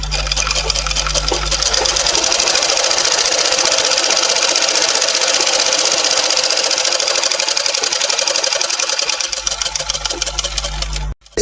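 A sewing machine runs in a fast, steady buzz for about ten seconds while stitching a small folded corner of fabric, close and loud, then stops abruptly.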